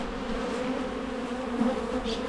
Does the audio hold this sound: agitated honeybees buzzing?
yes